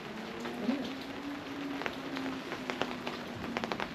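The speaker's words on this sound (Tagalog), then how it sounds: "Bukas na naman kasi ng ulan guys." Heavy rain falls outside beside a forest, a steady close patter on surfaces with scattered sharper drops and a faint low hum underneath.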